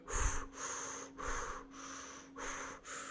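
A voice imitates shallow, high chest breathing with quick rhythmic breaths, about five short airy inhales and exhales in a steady pattern, close and fairly soft.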